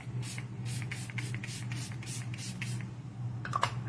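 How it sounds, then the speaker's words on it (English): Pinky Bee Beauty Had Me At setting spray is misted onto a face in roughly a dozen quick, close hissing pumps, each bursting then fading, followed by faint handling noise. "I'm going to spray it with the Had Me at setting spray from Pinky Bee Beauty."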